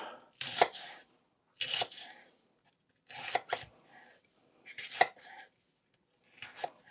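Knife chopping ingredients for a hunters and foragers stew on a board, five separate bursts of quick close cuts with short silent gaps between, no talking.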